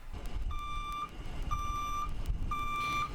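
A 40-foot school bus backing into a parking spot gives three evenly spaced, steady reversing beeps, clear and fairly close over a low engine rumble and street noise.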